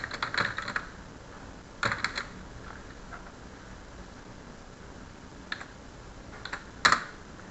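Computer keyboard keys tapped in a few short bursts of clicks, close and fairly quiet, with quiet pauses between the groups of presses.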